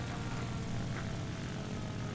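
A Ki-61-Ia fighter plane's engine drones in flight in War Thunder, a steady, dense propeller roar held at an even level throughout, with no voices.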